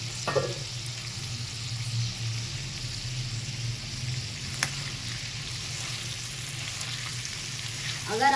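Beef liver and chillies fry with spices and ghee on a tawa, a constant close frying hiss over a low rumble with occasional faint clinks.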